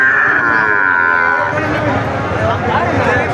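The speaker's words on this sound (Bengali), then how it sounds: "সুন্দর মানের দুইটা গরু দেখুন" Cattle moo loudly and close at the Seven Mile cattle market in Jessore, with a long drawn-out lowing call over crowd noise and people talking.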